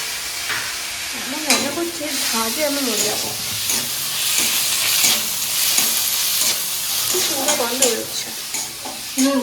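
Chicken patiala frying in a pan as tomato goes in, with a loud steady sizzle and repeated stirring scrapes. Someone talks over it now and then.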